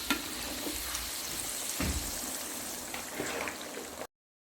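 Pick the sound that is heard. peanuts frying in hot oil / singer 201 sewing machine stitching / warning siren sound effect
peanuts frying in hot oil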